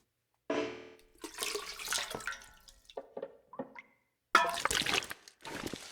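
Water being collected in the survival video game The Long Dark, with sloshing, splashing and dripping in several separate bursts, including a sharp louder splash near the end.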